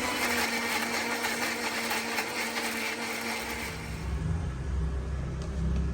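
A mixer grinder whirs loudly while grinding coriander and byadgi chillies, a harsh high motor whine for about four seconds that then drops to a lower, rumbling spin-down.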